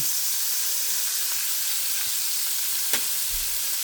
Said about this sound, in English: See how fast it fries.